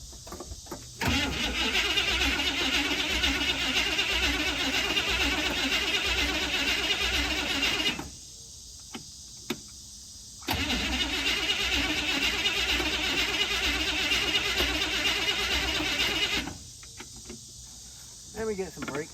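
An old Chevy car engine starting and running, two long loud stretches of steady engine roar separated by a pause with crickets chirping in the background.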